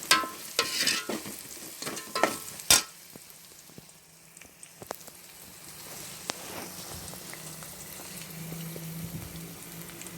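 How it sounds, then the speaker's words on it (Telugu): Onions fry in a pan until brown, a soft sizzle under sharp scraping and tapping as a spoon stirs them, busier at first, then a quieter steady hiss. "కొంచెం ఆనియన్స్ అన్నీ బ్రౌన్ కలర్ వచ్చేంత వరకు ఇలా వేపాలండి"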